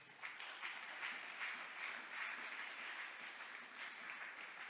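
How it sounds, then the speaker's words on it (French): A church congregation applauding during a Sunday service, heard as a steady, dense wash of many hands clapping, fairly distant and even in level, with no talk over it. "Est-ce que nous pouvons acclamer pour ce thème?"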